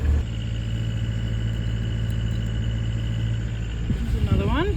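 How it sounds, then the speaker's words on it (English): A boat engine runs with a steady, close droning rumble while a squeaky serpentine belt whines thinly above it, breaking into rising and falling squeals near the end, aboard a sailing boat in a wet Scottish winter. "Squeaky on the engine belt, the serpentine belt."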